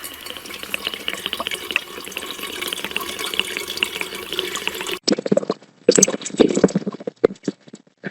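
Water being dumped into a fountain in a graveyard: a continuous rushing, splashing pour for several seconds, then choppier gurgles and splashes as the flow breaks up.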